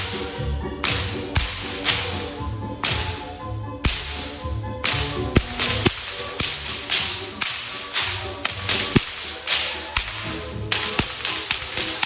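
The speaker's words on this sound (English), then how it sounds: "got to see this, a local type of whip performance" Whips crack sharply and loudly again and again at a local whip performance, a dense, fairly steady run of snapping strikes with no talk over them.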